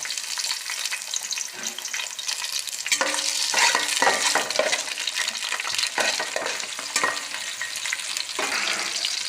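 Cinnamon, cloves and green chilies fry in a hot pan, with a steady close sizzle and intermittent stirring scrapes and clinks over several seconds, no voice heard.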